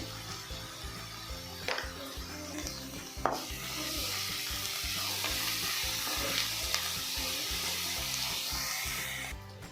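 Onions with salt frying in a pan for a Kannada beans and egg fry, a steady close sizzle with frequent scraping stirs and a few sharper clacks, running on alone without talk.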